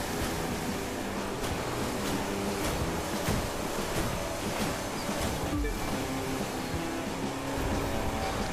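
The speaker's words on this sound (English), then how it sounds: "We have to hit these waves right." A racing boat speeds over ocean waves in The Crew 2, with a steady, loud wash of engine roar and water spray and regular thumps as the hull hits the swells.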